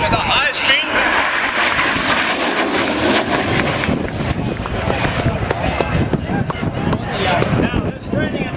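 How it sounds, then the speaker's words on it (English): AV-8B Harrier II jet making a high-speed pass, a loud sustained roar that swells and sweeps overhead, while an announcer talks over the noise. "Here comes the pilot they call Fluff with a high-speed pass"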